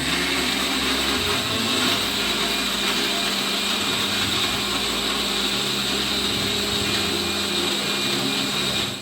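A kitchen mixer grinder whirs steadily, grinding coconut, curd and green chilli into a paste, loud, continuous and close throughout with no talk.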